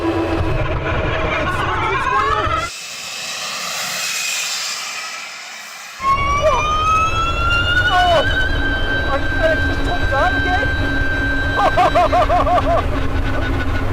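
A 1,000 horsepower hypercar launches down a quarter-mile drag strip on a damp track with wheel spin, its fan dialed up: a loud, close, rising high-pitched whine and rushing roar that builds steadily after a brief quieter lull.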